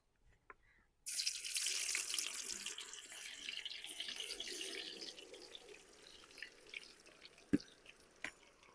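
Potato slices drop into hot ghee in a wok and set off a sudden loud, hissing sizzle that slowly settles into a steady crackle with scattered pops, with no voices.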